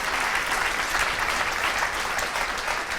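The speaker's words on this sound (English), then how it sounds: "that's the round of applause for that." A room full of people at a property business talk breaks into a round of applause, a thick continuous patter of clapping that stays loud and even from start to finish.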